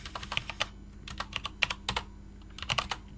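Quiet, close clicking of a computer keyboard as a command is typed on a server machine, irregular bursts of quick keystrokes with short pauses, no talking.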